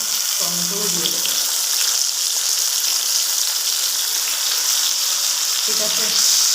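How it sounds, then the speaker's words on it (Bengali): Black cumin tempering with eggplant and tomato frying in a pan for a Bengali hilsa curry, a loud continuous sizzle held throughout, close up, with brief low clattering at the start and end and no talking. "কালো জিরে ফোড়ন দিচ্ছি, আর বেগুনগুলোকে আমি আস্তে আস্তে ছেড়ে দেব, আর পরিমাণ মতো টমেটোও দিয়ে দেবো।"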